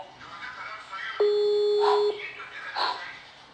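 A steady electronic ringing tone from a telephone in a Minecraft game plays once for about a second, with soft game noises and faint background sounds around it.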